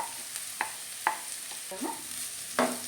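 Chopped banana leaf is stir-fried in oil for a thoron, giving a soft, quiet sizzle with a few sharp spatula taps and scrapes spaced through it.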